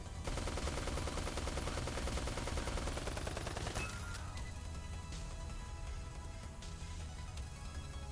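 Rapid automatic gunfire from the Icarus T-17 boss in the top-down shooter Neon Chrome: a dense, loud stream of shots for about four seconds, then a busier, less regular wash of game noise.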